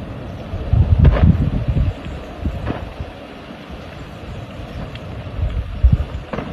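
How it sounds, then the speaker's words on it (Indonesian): Gusts of wind buffet the microphone near the erupting Mount Ibu volcano in West Halmahera, with loud rumbling blasts rising and falling and no speech. "Angin dari bawah dia tiup kesini."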